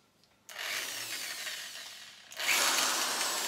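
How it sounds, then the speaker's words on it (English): A hammer drill bores into a brick wall indoors in two bursts, a quiet grinding whir starting after a short pause, dipping briefly, then returning louder and harsher. "I have a drill, a hammer drill, which is set onto hammer."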